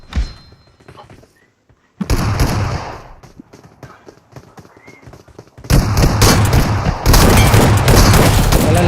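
Bursts of gunfire in a shooting video game, a 2v2 Wow mode match with a DBS shotgun and S12K, come as loud rapid blasts after a quiet opening, swelling into dense sustained firing toward the end.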